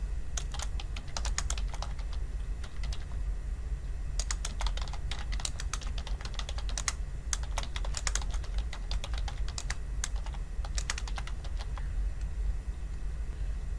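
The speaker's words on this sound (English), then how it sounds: "Now we'll type in the title." Fast typing on a computer keyboard, close clicking keystrokes in bursts with short pauses, over a low steady background hum.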